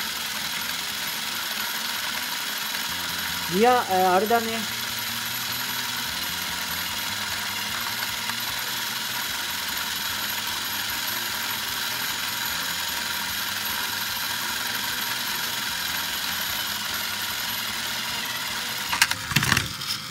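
A Plarail toy train's automatic departure station plays its bell at a lowered, slowed pitch for a slow train, a soft stepping chime repeating steadily under a constant hum, with a brief spoken remark early on and a plastic clack near the end.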